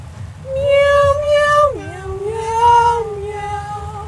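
A voice sings an imitation of cats from the musical Cats, drawn-out meow-like tones that slide up and down over a few seconds, close and loud against a low background murmur.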